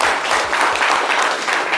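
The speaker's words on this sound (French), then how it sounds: "Les gars, on peut l'applaudir d'abord pour l'encourager." Applause from a studio audience during a live French midday radio-television show, a dense steady patter of many hands clapping close and loud, with no voices over it.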